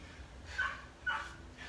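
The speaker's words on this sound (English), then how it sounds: "Sorry, we got Puppy in the background" A puppy in a kennel yips and whimpers twice in the background of an indoor room, faint, high-pitched and brief.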